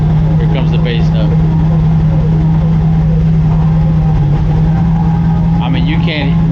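Loud bass note played through a car stereo inside a car with door rattles fixed, a heavy sustained low drone filling the cabin with no rattles, close and continuous with muffled voices under it.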